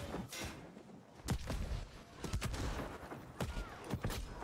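Gunfire in the online game New World during a large war battle, with scattered sharp shots cracking at irregular intervals over a busy, crowded background, moderately loud and close.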